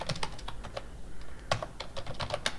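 Quick, close clatter of keys on a computer keyboard, irregular bursts of typing with short pauses between them.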